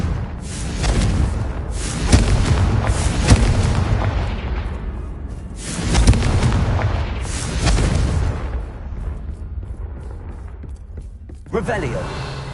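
Confringo fire spells in the video game Hogwarts Legacy set off repeated booming explosions, loud rumbling blasts that swell and fade across the stretch, with a player casting spells aloud between them.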